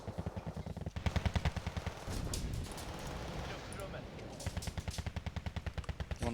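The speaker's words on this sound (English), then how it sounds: "Looks like they're engaging with sniper rifle for now." Sniper rifle and other weapons firing in the real-time strategy game Wargame: Red Dragon, a rapid rhythmic run of sharp reports with gaps, heavy and close, with a voice talking over parts of it.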